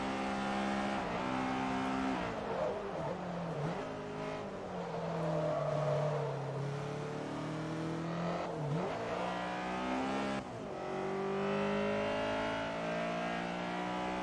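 A Honda Integra engine in Forza Motorsport 3 revs up through the gears, a loud continuous rising whine that drops at each shift and climbs again, with tires and road noise beneath.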